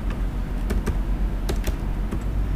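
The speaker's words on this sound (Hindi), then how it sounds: "रीलोड टाइप कीजिए" Steady typing on a computer keyboard during setup of a Cisco network switch, with clicky keystrokes in an irregular rhythm over a constant background hum, close and fairly loud, with no speech.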